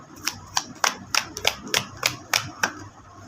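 A deck of tarot cards is shuffled to draw one, giving a series of about ten crisp, evenly spaced slaps and flicks, close and clear with no talking.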